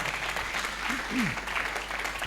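A church congregation at a Spanish-language worship service applauds, steady clapping throughout with a voice briefly calling out over it.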